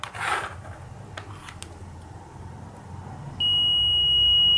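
A continuity tester beeps as a magnet brought near closes a reed switch of a magnetic sensor, a steady near tone starting about three seconds in and holding to the end after quiet room noise.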